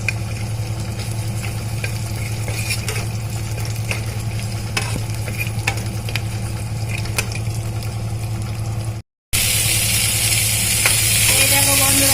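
Chopped ginger and garlic fry in hot ghee for chili chicken, giving a dense continuous sizzle with stirring clicks close by, then a brief cut and a louder, brighter sizzle afterward.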